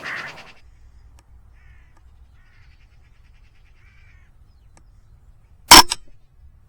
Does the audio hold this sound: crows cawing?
yes